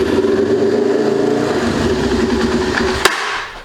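A 2004 Yamaha TT-R 250 dirt bike engine idles roughly with an uneven, fluttering beat, heard close and fairly loud for over three seconds. A sharp click comes just before the engine cuts out.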